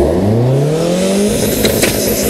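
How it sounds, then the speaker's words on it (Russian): Subaru Legacy 2.0 EJ20X and a turbocharged 1.3 Toyota Starlet accelerating hard side by side in a drag race, loud engines rising steadily in pitch through the gears with a sharp shift break near the end. "мы их запустим напрямую и узнаем, как разгоняются автомобили и кто из них победит"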